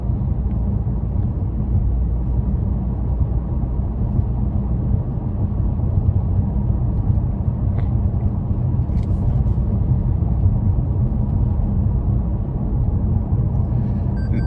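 A 2024 Toyota Camry XSE V6 cruises at about 1100 RPM on cruise control, heard from the cabin as a steady, low, muted engine and road drone with no sharp changes.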